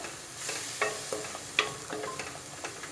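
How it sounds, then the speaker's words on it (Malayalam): Yogurt potato curry (dahi aloo) being stirred in a pan over a low flame: soft continuous simmering sizzle with repeated light scraping strokes of a spoon against the pan, close and moderately quiet. "അതുപോലെ തന്നെ ഒപ്പം ഇളക്കിക്കൊണ്ടിരിക്കണം, അല്ലെങ്കിൽ തൈര് പിരിയാനുള്ള ചാൻസ് ഉണ്ട്"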